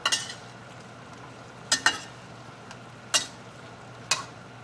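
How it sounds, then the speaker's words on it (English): Mushroom chicken simmering in a covered pan is stirred, with a few sharp scraping clacks of the utensil against the pan over a steady low simmering hiss. "give it a good stir"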